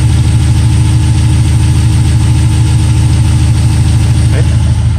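A Jeep JK with a 392 Hemi V8, rebuilt with a honed bore, Total Seal gapless rings and new main and rod bearings, idles at low RPM. The loud, close, steady rumble pulses evenly throughout.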